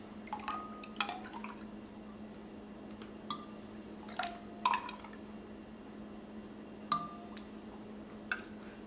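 Rendered fat juices being poured and dripped over a cooked brisket, giving scattered wet drips and splashes at irregular intervals over a steady low hum.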